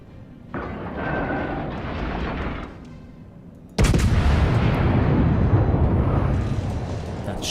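Naval guns of the battleship Texas firing in a warship game: a heavy cannon blast hits sharply and rolls into a long, dense rumble, preceded by a quieter sustained roar.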